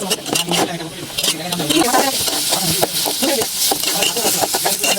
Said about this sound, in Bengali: ওই তেলের মধ্যে আমি আরও কিছু পেঁয়াজ কুচি দিয়ে দিব এই পেঁয়াজগুলোকে সুন্দর করে ভেজে নিব